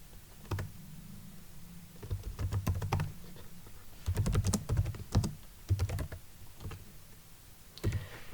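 Keys clack on a computer keyboard in a few short, close bursts separated by brief pauses, the typing crisp and alone.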